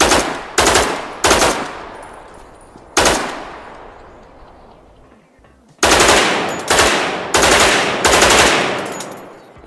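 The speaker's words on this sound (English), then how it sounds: "Hacks has been working on gunshot tails sound effect implemented for many environments" Loud gunshots in the survival game Dead Matter ring out in clusters, each blast trailing off in a long echoing tail, with a quiet stretch before a rapid final volley.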